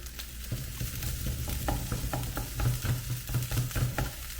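Egg fried rice in a hot pan as its sugars caramelize, a continuous crackling sizzle with rhythmic scraping and tossing of a utensil, close and fairly loud, no talking.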